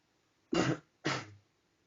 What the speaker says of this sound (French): Je l'ai entendu tousser.